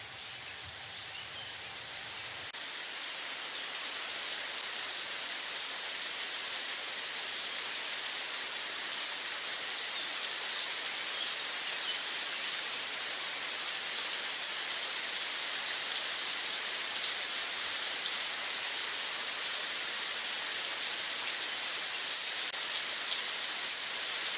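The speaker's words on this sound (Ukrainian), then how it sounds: "дощ все льє і не перестає" Heavy rain pours down steadily, a dense hissing wash of drops that swells slightly during the first few seconds and then holds constant and loud, with no voices.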